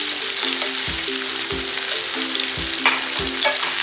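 Onion, green chili and ginger sauté in hot oil in a pan, giving a steady close sizzle broken by regular scraping stir strokes about every second, with a faint tonal hum underneath.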